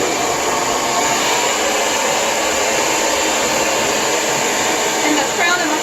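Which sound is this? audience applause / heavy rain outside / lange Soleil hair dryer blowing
lange Soleil hair dryer blowing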